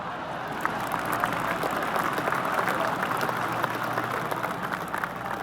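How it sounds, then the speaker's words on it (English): Golf crowd applause in PGA Tour 2K25, a steady patter of many hands clapping in a dense, even wash that holds at constant loudness from start to finish. "Oh, golf clap."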